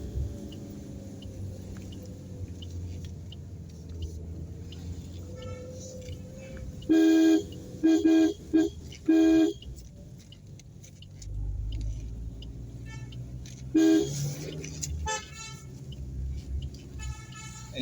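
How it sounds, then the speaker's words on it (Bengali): A passing car sounds its horn on a mountain road between Siliguri and Rishop, several loud honks in bursts around mid-clip and again later, over steady vehicle engine rumble. "এই গেল কলকাতা গাড়ি বলে হর্ন দিতে দিতে গেল।"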